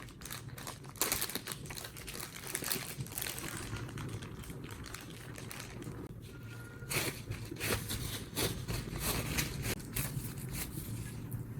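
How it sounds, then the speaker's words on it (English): Thawed chicken is lifted out of a plastic bag and patted dry with paper towels, giving a steady run of close crinkling, rustling and soft dabbing noises with sharper crackles near the start and middle, and no talking. "remove it from the bag and pat it dry with clean paper towels"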